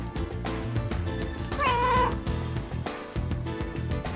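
A cat gives a single clear, drawn-out meow in the role-playing game Shin Megami Tensei: Devil Survivor 2, sounding over busy background music.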